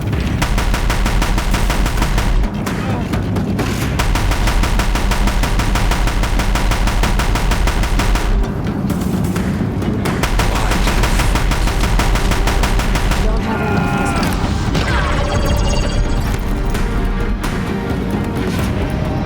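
Sustained rapid gunfire from Deathbringers in a video game, dense automatic bursts running nearly continuously and loud, with brief breaks and heavier crackling blasts toward the end.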